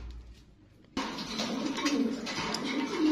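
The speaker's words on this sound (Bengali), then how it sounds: "দর্শক এখানে আরো একটা কবুতর দেখতে পাচ্ছি" Caged pigeons at a bird sale give low, soft cooing, faint at first and then closer and fuller amid rustling background noise, with repeated murmuring calls.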